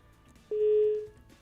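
A single short electronic tone on a radio call-in phone line as a caller connects, steady for about half a second over faint line hiss, with no talking.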